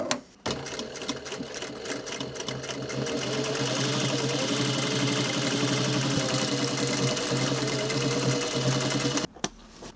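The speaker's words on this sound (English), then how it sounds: "You can take your pins out now and then hit that top stitch all the way along." Top stitching along a dungarees pocket, a sewing machine whirs in a fast, even run for several seconds after a brief start and pause, close and prominent, then cuts off.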